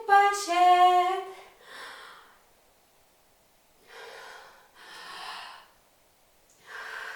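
Someone gasps for breath after surfacing from a swim in the sea: one sharp, loud intake of air, then several breathy snorts and exhales at spaced intervals with quiet gaps between.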